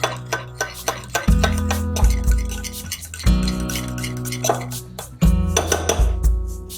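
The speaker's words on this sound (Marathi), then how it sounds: "दही छानपैकी मिक्स करून घ्यायचंय." Yogurt (curd) for a chutney is whisked with a spoon in a metal bowl, making loud, rapid clinks and ringing scrapes in bursts, close up and with no one talking.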